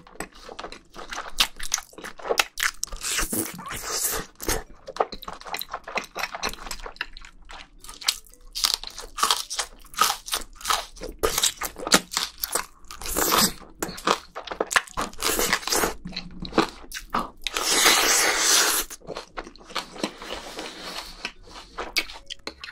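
Homemade black bean noodles are slurped and chewed up close, with a steady run of wet smacking, crunching bites and squishy mouth sounds, close and clear with no talk over them.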